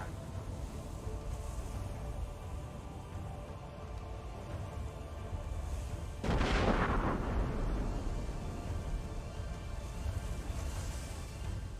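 Mortar fire on ships in Tortuga: A Pirate's Tale, a single heavy boom with a rolling rumble cutting through a low, steady ambient bed, then fading back to quiet.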